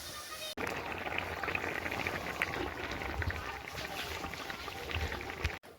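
Chicken biryani gravy bubbling and simmering in a pot, a steady close bubbling hiss with small pops that runs unbroken for several seconds before cutting off.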